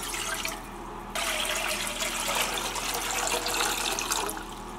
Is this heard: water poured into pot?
yes